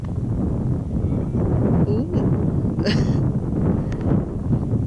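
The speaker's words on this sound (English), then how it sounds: "Sorry about the wind, guys." Low, rumbling wind buffets the microphone outdoors in Cornwall throughout, with a brief exclamation from a voice and faint higher chirps in the background.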